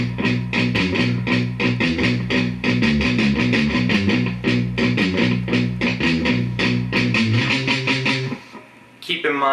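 Electric guitar plays a lightly palm-muted verse, a steady run of clipped, chugging picked notes with a mild overdrive, close and clear, ending with a short ringing note.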